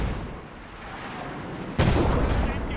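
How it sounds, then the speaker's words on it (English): Artillery barrage falling on a machine gun position in Company of Heroes 2, a dense roar of battle noise that jumps into a louder, heavy impact partway through. "Trying to go for a barrage onto that MG"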